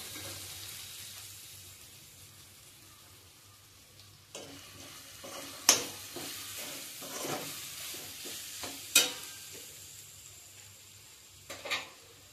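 Stirring in a pot of drumstick and prawn curry as salt, chili powder and turmeric go in, with soft scraping and light sizzle strokes under a steady low hum, a few sharper clinks standing out.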